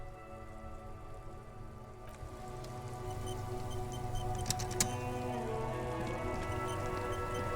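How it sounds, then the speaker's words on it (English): Rain in the video game Disco Elysium, a steady patter on surfaces over a low ambient drone that swells after a couple of seconds, with a few sharp drips near the middle. "This rain will not let up anytime soon."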